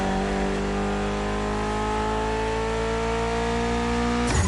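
A Mitsubishi Evo engine in the racing game The Crew Motorfest holds a loud, steady high-rev drone with layered harmonics throughout, briefly shifting at the very end.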